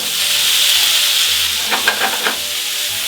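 Parisienne potatoes sizzle steadily in a pan of melted butter and garlic, a loud continuous frying hiss with a few brief scraping stirs near the end.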